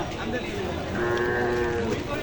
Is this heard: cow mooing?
yes